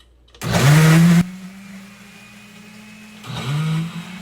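A mini blender running without its lid for a mango smoothie gives a loud whirring burst, drops to a lower hum, then roars up again near the end, close and alone.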